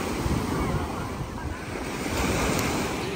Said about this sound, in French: c'est dommage qu'il y ait ces vagues là.